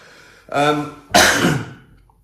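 Two close, rough bursts from a man, a throat clearing followed by a harsher cough, each about half a second long with a brief gap between them.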